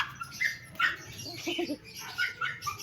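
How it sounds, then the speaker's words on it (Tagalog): A dog barks faintly in the distance, a few scattered yaps amid outdoor background noise. "ang ingay naman ang aso nila"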